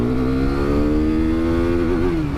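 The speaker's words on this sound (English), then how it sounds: "That's the rev limiter." A 2019 KTM RC 390 single-cylinder sports bike engine holds steady at the rev limiter, a loud, continuous buzzing drone with a slight wavering pitch near the end, close and alone.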